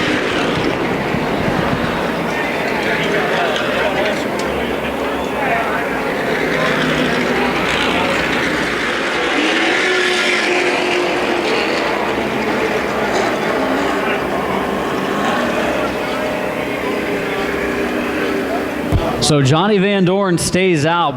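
Race cars rumble into the pits under a caution period during the CRA Super Series Winchester 400 short-track race, a steady broad engine drone running under continuous commentary, with a sharp louder burst near the end.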